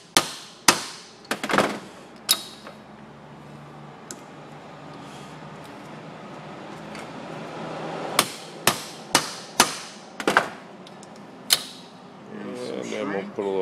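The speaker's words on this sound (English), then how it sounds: "So this is the hammer crimper." Hammer crimper crimping lugs onto jumper cable ends for a mobile off-grid power system: sharp, loud metallic hammer strikes, some single and some in quick runs, separated by quieter gaps with talk.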